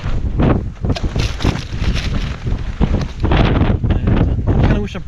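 Wind gusts batter the microphone at an exposed hilltop wild camp, loud rumbling buffets rising and falling in irregular surges, with brief rustling between them.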